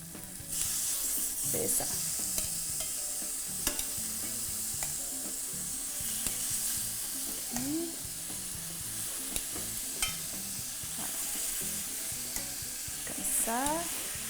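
Chicken thighs sizzle and fry steadily in a hot pan, a constant crackling hiss with occasional clinks and stirring knocks, while a voice speaks briefly.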